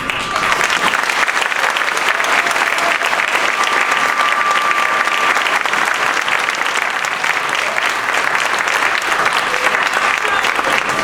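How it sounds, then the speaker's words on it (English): Sustained audience applause fills an elementary school spring concert hall, a dense, steady wash of many hands clapping at full loudness throughout with no break. "if we could just give another round of applause"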